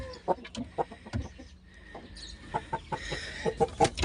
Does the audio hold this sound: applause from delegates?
no